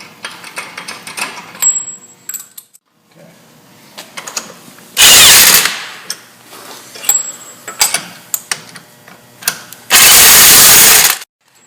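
A power tool, most likely an impact wrench, fastens a wheel back onto a 2005 Chevy Avalanche during a brake job. Two long, loud, close bursts are separated by quieter clinks and shop handling noise.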